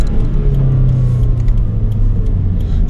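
A 2020 Toyota 86 Hakone Edition engine in sport mode hums with a steady, close, low rumble while driving, with no talk.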